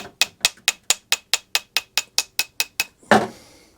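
About fourteen quick, evenly spaced metallic taps on the carburetor bowl of a Homelite HG600 Lightning Bug, followed by a louder clattering knock at the end.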